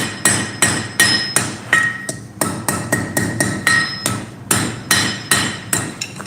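A hammer repeatedly strikes the peen of a small forged mini axe on the anvil at a blacksmithing session, with about a dozen loud, ringing metallic blows coming in a steady, slightly uneven rhythm close by.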